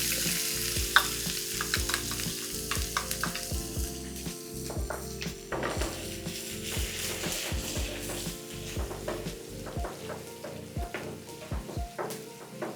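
Finely chopped onions sizzle in hot oil with bay leaf, cloves and masala, a steady crackling fry broken by frequent stirring scrapes and clinks of the spoon against the pan.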